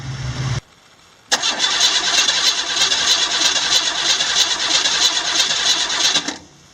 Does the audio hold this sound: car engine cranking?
yes